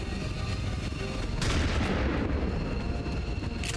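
Rumbling gunfire and booming shots in the video game XCOM 2: Long War of the Chosen, a dense continuous barrage with a sharper blast near the middle, loud and unbroken, with no voices.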